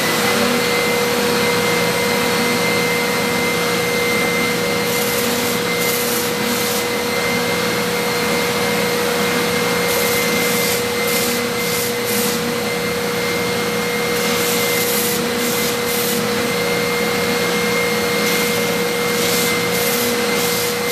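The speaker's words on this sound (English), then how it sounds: "So while running this belt sander, you do want to make sure that you hang on tightly." A belt sander runs loud and continuous on a CNC-machined wooden coaster, a dense roaring whine with a steady hum beneath and bursts of harsher grinding as the wood is pressed against the belt.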